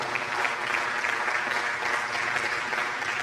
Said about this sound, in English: Kindly clap for us